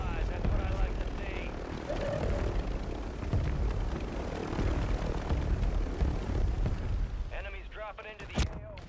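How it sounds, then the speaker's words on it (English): A helicopter flies through a Call of Duty Warzone Rebirth match, a steady rotor drone under excited talk, followed by a burst of sharp gunfire near the end. "These drones are stopping my helicopter from moving"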